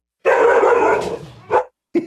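A dog barks loudly and close by, one long sustained bark-like burst followed by two shorter barks, with no talking over it.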